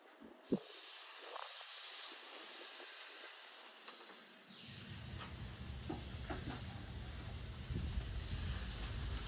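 Ribeye steak sizzling on a caveman grill: a sudden loud hiss as the meat lands, then a steady close sizzle and crackle that continues throughout, with no talking.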